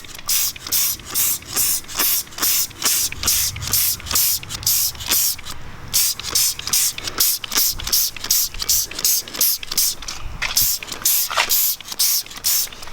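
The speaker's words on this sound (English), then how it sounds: "Just gonna spray a nice thick coat" Repeated hissing bursts of an aerosol cleaner sprayed in a thick coat over an Apollo 125 pit bike, short rhythmic sprays about twice a second, close and loud with brief gaps between them.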